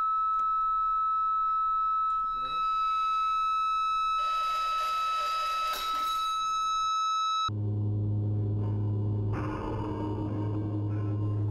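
A steady pure electronic tone at a wine glass's resonant frequency plays through an amplifier continuously with its harmonics, then a louder low hum joins in partway through as the volume rises.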